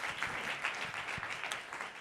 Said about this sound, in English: round of applause for the panel.